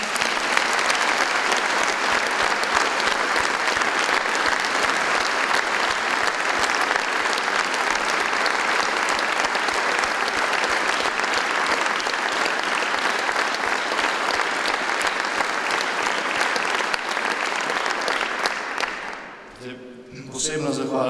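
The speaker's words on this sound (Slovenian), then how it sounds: "mislim, da vsi skupaj zaslužijo aplavz" Sustained, dense applause from a large crowd at a political party congress, loud and steady for about twenty seconds before cutting off abruptly near the end.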